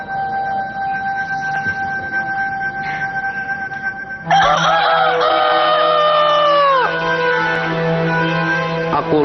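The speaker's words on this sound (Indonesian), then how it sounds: "Akulah ayam jago, jagonya Cindelaras." A rooster crow rings out loud and close, long and tonal, starting partway through and falling off over several seconds, preceded by a lower steady hum and faint background noise.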